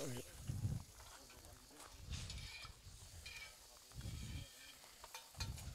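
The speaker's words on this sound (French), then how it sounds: "en même temps, on vérifie les oignons de la plancha. On les retourne." Onions on a plancha griddle give a soft, steady sizzle as they are turned, with faint scraping in the background and a person speaking over it, all fairly quiet.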